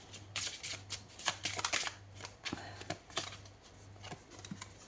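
Tarot cards being shuffled and laid out, a steady run of crisp riffling and soft slaps close to the microphone, with a faint low hum underneath and no voice.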